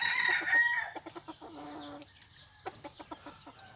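Farm chickens, including a rooster, heard close by: a crow opens, followed by a run of short clucks and another brief call, with quieter gaps between them.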